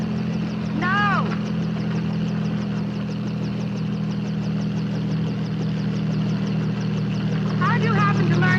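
Helicopter in flight, a steady low rotor and engine drone held loud and continuous throughout, with brief voice-like pitched sounds near the start and end over the hum.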